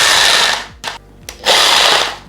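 Yiking 1100W rotary hammer running in bursts: a loud, buzzing whir that cuts out, gives two short blips, then spins up again, close by with no talk.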